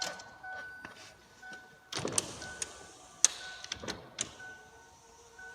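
Power windows on a Ford Explorer being tested after repair, several short motor whirs and clunks as windows run and stop, fairly close inside the vehicle with no talking.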